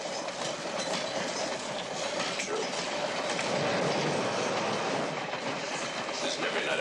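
A train clatters steadily along the rails, a loud continuous rumble and rattle that fills the whole stretch. A voice speaks one brief word over it.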